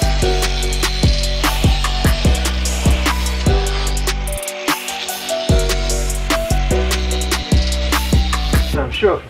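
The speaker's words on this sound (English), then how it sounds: "So now I can basically grind off these things and just see kind of like how good those welds are." Angle grinder grinding down welds on budget metal railings, a loud continuous harsh whine with repeated sharp bursts and brief pauses, close up.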